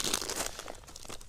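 A plastic bag of fishing groundbait, pineapple-flavoured Carpro mix, crinkles and rustles steadily and close up as it is mixed, a dense crackling texture with no voices.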